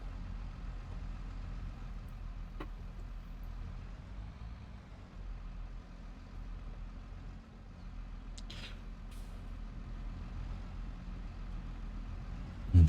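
Tractor engine in Farming Simulator 22, a steady low rumble held throughout at an even level, with a couple of faint higher clicks and ticks over the drone.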